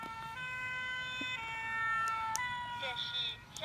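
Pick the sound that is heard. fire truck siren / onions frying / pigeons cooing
fire truck siren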